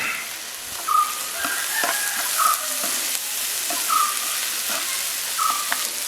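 Sliced onions and shallots sauté in a pan with a soft, even sizzle, and short bright clinks of stirring recur every second or so throughout.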